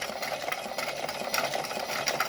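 A small motorized toy playground slide with a yellow penguin runs with a faint, steady mechanical whir and light clicking.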